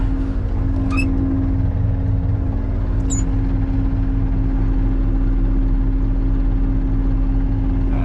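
A Case 9280 tractor runs with a steady low engine drone and constant hum throughout, joined by a couple of brief high squeaks.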